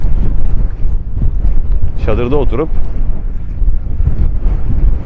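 Steady, heavy wind buffeting the microphone throughout at a bay campsite in Urla, İzmir, Turkey, with a voice speaking briefly in the middle.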